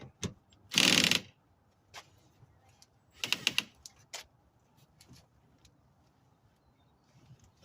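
A ratchet with a socket works the door mirror bolts on a 2006 Lexus RX330 driver door: two dense bursts of rapid clicking, then scattered lighter ticks and taps in a quiet garage-like space.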